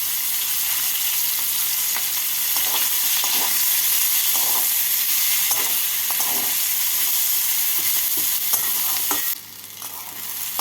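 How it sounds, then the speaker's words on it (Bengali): Two medium chopped onions fry in oil, a loud continuous sizzle with irregular scrapes and clinks of a spatula stirring, easing to a quieter hiss near the end. "এবার এই তেলের মধ্যে দিয়ে দেব দুটো মিডিয়াম সাইজের কুচনো পেঁয়াজ পেঁয়াজটাকে হালকা লাল করে ভেজে নিচ্ছি"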